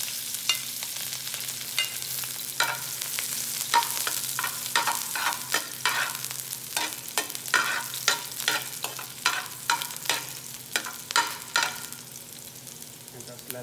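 Ginger and garlic sizzle in a hot pan as the base for a sweet and sour sauce, a steady close frying hiss broken by repeated sharp scraping and stirring strokes, with no talking.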